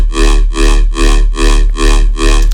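A riddim dubstep bass patch pushed through a saturator at 6 dB with soft clip enabled thumps in six even, loud, distorted pulses, each a thick buzzing growl with a heavy low end and no voices.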